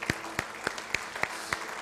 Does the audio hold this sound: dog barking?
no